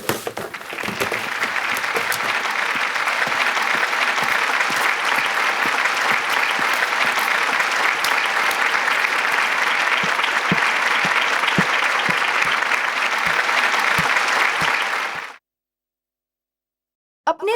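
A crowd at a school's 25th silver jubilee celebration clapping to welcome the chief guest, dense sustained applause from many hands that carries on for about fifteen seconds, then stops abruptly into silence.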